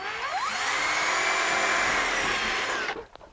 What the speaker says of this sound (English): You use regular, any metal drill bit